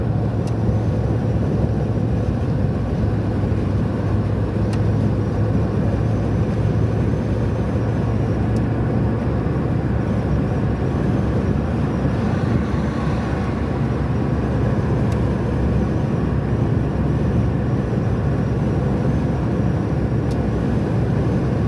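A Tofaş car cruises at 110 km/h with the right window open. Steady road and wind roar fills the cabin, constant and loud, with a low engine drone underneath and no talk.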